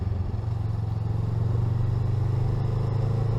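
A Honda Rebel 500 motorcycle rides along a twisty road, its engine humming in a steady, close, mid-pitched drone that swells slightly as the ride goes on.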